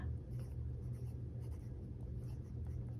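A fountain pen with a Kodachi grind on a medium nib scratches across paper, a soft continuous scribbling over a low steady rumble of background noise.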